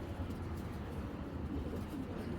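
Old-breed Sapchila pigeons coo softly in a continuous low murmur, fairly close, with a dense flock-like hum beneath.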